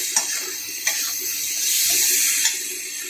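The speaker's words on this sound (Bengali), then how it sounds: "এর মধ্যে ডালটা ঢেলে দিব" Boiled mung dal pours into a pan with turmeric and spices, a loud continuous wet splashing and gushing stream with a few soft knocks, close up and with no talk.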